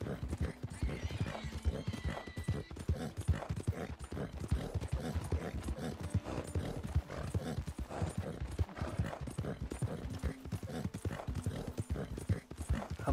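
Hooves of a small flaxen chestnut Morgan horse clip-clop in a steady, rapid rhythm in Red Dead Redemption 2, close and continuous, with a few whinnies and faint game sounds underneath.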